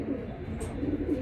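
Young racing pigeon cooing softly and steadily over a low, continuous background murmur, with no clear breaks in the sound.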